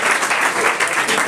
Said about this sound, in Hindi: जोरदार तालियों के साथ रोहित कुमार का स्वागत कीजिए।